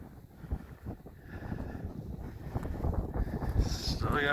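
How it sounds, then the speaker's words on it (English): Gusty wind buffets the microphone on top of a mesa, rising in strength toward the end with low, uneven roaring. "Feels like it's gotten even more windy up here since I've been up here walking"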